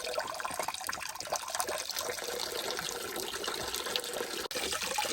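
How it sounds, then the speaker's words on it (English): A tap on an off-grid farm in Portugal runs with a steady, gentle stream of water splashing and trickling, close by and on its own, with one brief dropout near the end. "Is water coming out the tap?"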